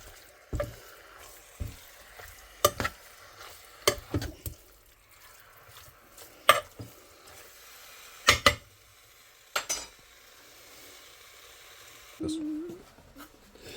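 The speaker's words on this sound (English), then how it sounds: "So while we're browning off that meat" Sika venison meat browns in a pot under a faint sizzle while a utensil knocks and scrapes it in scattered, sharp, close strokes, with brief quiet gaps between them.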